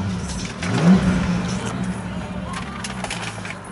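A 2005 Bentley Continental GT with a 6.0 engine gives a quick deep blip, a short low surge that swells and settles back into a rumbling idle, heard close.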